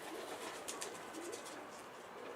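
Pigeons coo softly in a loft amid a steady hiss of background noise, a few low repeated calls at a moderate distance, with no voices.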